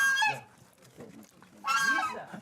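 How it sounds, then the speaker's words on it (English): Two loud, nasal goose honks from geese outside in a village, one at the start and another after a short pause, with quieter farmyard noise in between. "I hear the geese outside."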